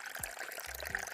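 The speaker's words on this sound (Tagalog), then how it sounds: "Bubuhusan muna ng mainit na tubig para mas madali siyang linisin" Hot water poured over bobohan, a sea-urchin-like ingredient for kare-kare, to make it easier to clean, a brief, faint splashing pour with a couple of low sloshing gurgles, no voices.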